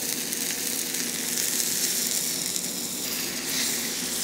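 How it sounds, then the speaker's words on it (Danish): A 200 g US beef tenderloin steak sizzles steadily in a pan with butter over lowered heat, a constant close hiss with no talking. "En 200 grams mørbrad skal have 5-7 minutter i panden, alt imens man vender og drejer bøffen."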